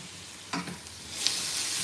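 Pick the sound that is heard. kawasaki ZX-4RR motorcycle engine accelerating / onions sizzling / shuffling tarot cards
onions sizzling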